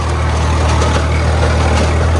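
A tractor engine runs close and loud in a farm field, holding a steady, low, throbbing diesel drone with no pause.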